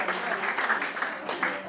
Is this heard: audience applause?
yes